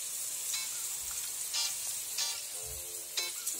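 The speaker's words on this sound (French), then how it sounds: "je vais les mettre à la casserole à chauffer" Low, steady sizzling of vegan raclette ingredients heating in a saucepan, with a few brief light clicks and scrapes scattered through it.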